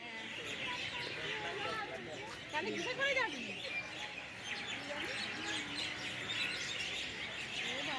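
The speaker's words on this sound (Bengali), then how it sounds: "পাখিদের ডাক শোনো শুধু" Several birds chirping and calling in the distance on a winter evening, a soft continuous chorus of tweets with a few clearer calls standing out.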